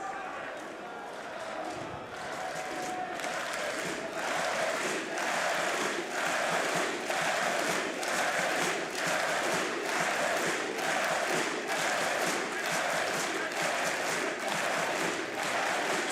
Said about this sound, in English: So the crowd chants the team's name one more time, perhaps the final time for M80